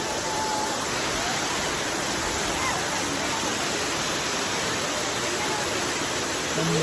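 Rushing water at the Tiryani waterfall, a steady, loud, broadband roar of falling water heard up close that continues without a break throughout.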